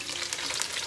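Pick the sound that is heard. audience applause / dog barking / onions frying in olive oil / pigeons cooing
onions frying in olive oil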